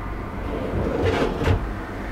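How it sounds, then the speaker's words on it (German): A large wardrobe cupboard in the entrance area of an Actionmobil MAN 4x4 off-road motorhome swings open with a soft, broad rushing sweep and a couple of light knocks, close by and without talk. "Bitte mal öffnen den Schrank."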